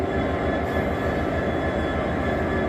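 A Class 66 freight locomotive, a Freightliner unit, passing a London station platform, giving a dense, steady low rumble and rolling wagon noise that stays loud and unbroken throughout.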